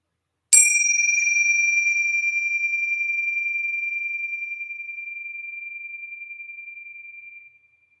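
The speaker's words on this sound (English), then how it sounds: "here's the sounding of the bell" Meditation bell struck once to open a breathing meditation, a single clear ding that rings out in a pure sustained tone and slowly fades over about seven seconds, alone in silence.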